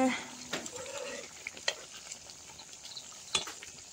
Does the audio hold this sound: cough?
no